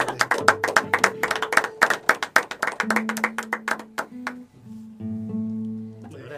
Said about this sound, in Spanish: Se puede aplaudir.